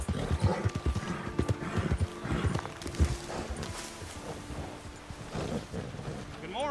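A horse clip-clops along in the Red Dead Redemption 2 game, hoofbeats close and fairly loud, with a whinny and rumbling thunder and rain in the background and someone speaking briefly.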